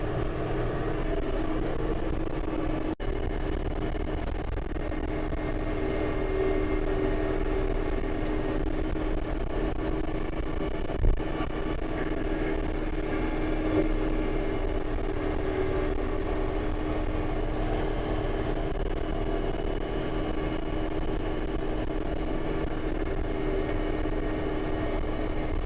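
A tiller engine churns through soil full of roots, giving a continuous loud, even mechanical drone that barely changes throughout, with no talking.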